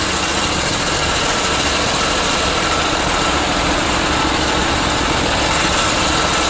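A small engine on a twin-engine hot and cold water trailer sewer jetter runs loud and close, a dense steady high-pitched drone with constant vibration and no voices.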